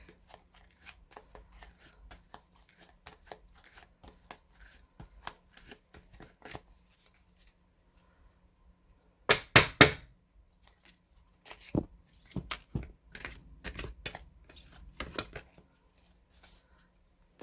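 Tarot deck shuffled in a few quick bursts: scattered soft riffling and tapping, then a louder flurry of card slaps and more crisp shuffles, close by with no talking.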